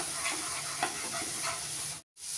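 Ground turmeric roasting in a pan with onion paste for a ridge gourd curry, an even frying sizzle with light stirring, cutting to silence briefly before resuming.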